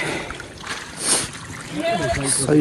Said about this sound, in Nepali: यो पानीको मुहान कहाँबाट फुटिरहेको छ हौ